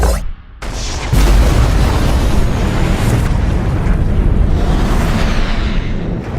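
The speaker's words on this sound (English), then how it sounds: "Massive secondary explosions." Torpedoes strike a starship in a sci-fi battle, setting off massive secondary explosions: a sudden loud boom, then a sustained, heavy rumbling roar that stays close and powerful and slowly fades.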